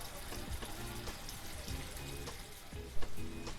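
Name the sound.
black mustard paste frying in pan for Bengali tel koi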